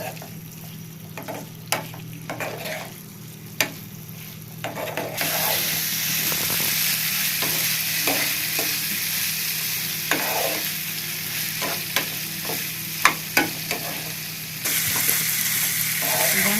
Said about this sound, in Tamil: இப்போ வந்து நம்ம ஃபுல்லில் வச்சு நல்லா டீப்பாக வந்து ஃப்ரை பண்ணிடலாங்க